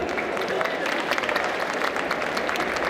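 An audience at a hypnosis stage show during the Necronomi'con 2023 convention applauds returning volunteers, a steady, dense wash of clapping lasting throughout with some voices mixed in.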